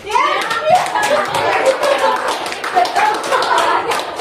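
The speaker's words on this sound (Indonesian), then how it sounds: "untuk menutup sesi hari ini saya mohon tepuk tangan" An audience applauds together to close a teachers' training session. The clapping is dense and sustained, filling the whole stretch at an even level with no pause.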